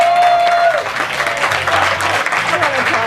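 Audience applause at a Relay For Life cancer event in Campbell, California, a dense, steady clapping from a large crowd lasting about three seconds, loud and close, with a voice briefly audible over the start.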